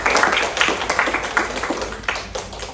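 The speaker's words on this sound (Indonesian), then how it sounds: "Tepuk tangan." A smallish audience at a Women's Day event for women in construction claps their hands, with distinct separate claps that rise and fall in bursts, fairly close and moderately loud.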